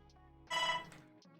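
A phone ringtone sounds once as a short, bright, tonal burst that rises sharply from a quiet humming room and fades within a moment, followed by a couple of faint electronic chirps. No one speaks.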